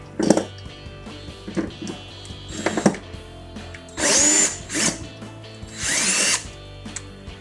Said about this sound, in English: Power tools make life so much easier if you can swing it.